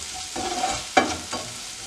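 Onion and green chili sautéing in a pan over medium heat for okra milk curry: a steady oily sizzle broken by three scraping stirs, the middle one sharpest, close and fairly loud.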